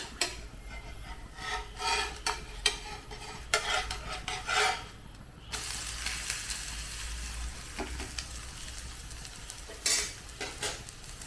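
A green gram and poha dosa fries in a pan with a soft, quiet sizzle under intermittent scraping and clinks of a spatula as it is turned over.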